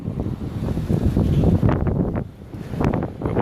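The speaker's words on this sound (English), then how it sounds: "It's very windy right now" Strong wind buffets the microphone outdoors in Minneapolis, heavy low rumbling gusts that rise and fall without pause, loud and close, with no talking.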